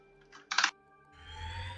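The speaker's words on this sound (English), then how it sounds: "to avoid some of the clicking stuff, because I got a mechanical keyboard" A mechanical keyboard during a Brawlhalla match: a few close, sharp key clicks in a short burst, then a soft rising hiss, with no voices.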